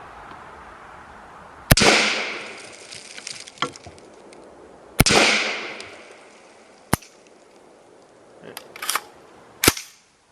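Shots from a California-compliant AR-15 rifle fitted with a CompMag ring out outdoors, each a loud sharp crack with a trailing echo: two spaced reports, a lighter pop, then a quick pair and a final crack.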